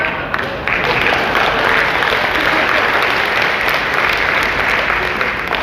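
A seminar audience claps steadily and loudly, a continuous wash of applause with faint voices underneath.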